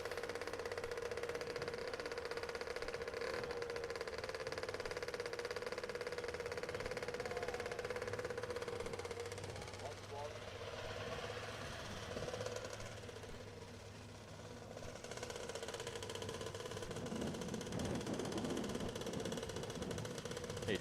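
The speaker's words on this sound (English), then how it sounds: "Next up, bike number 750, 500cc motorcycle, Black Cat Biggs." Rough buzzing engine of a 500cc racing motorcycle, bike 750 Black Cat Biggs, at an El Mirage dry lake racing event, a sustained mid-pitched drone that dips briefly midway and then returns.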